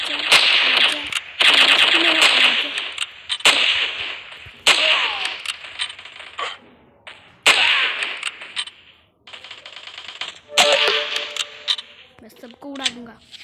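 Rapid bursts of automatic gunfire from the mobile shooter game Cover Strike, loud and close, repeating in clusters with short gaps while someone talks excitedly over the shooting.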